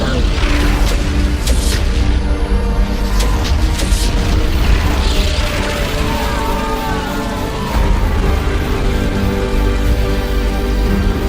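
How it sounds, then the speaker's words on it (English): Orbital cannon bombardment in the Warhammer 40,000 Dawn of War video game: loud rolling booms and blasts with mechanical whooshes sustained through the whole stretch, heavy and continuous. "indiscriminately unleashed his powerful orbital cannon on the armies below"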